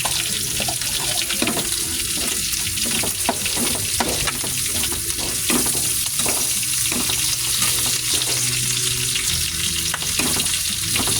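Onion and garlic for pork humba fry and sizzle steadily in a pan as a spoon stirs through them, with repeated scraping strokes over a continuous loud crackle, no voices present.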